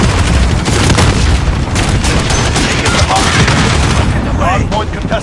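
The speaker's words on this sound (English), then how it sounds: "Grenade out." Loud Call of Duty Modern Warfare multiplayer combat: a grenade blast booms amid continuous gunfire bursts, with a radio-style voice calling out over the dense, steady battle noise.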